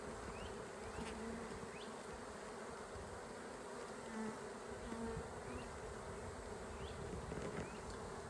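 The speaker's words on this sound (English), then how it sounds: "look how rapidly these bees are moving around, kind of nervous" Dense, steady buzzing of many honey bees close by on a hive frame, a continuous insect drone with small flickers of individual wingbeats, no talking.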